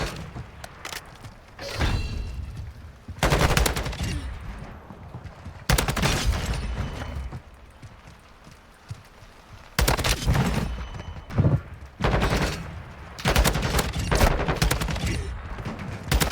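Gunfire from shooting bots in a first-person shooter video game, played on controller: repeated loud bursts of rapid automatic fire separated by short quieter gaps, close and punchy.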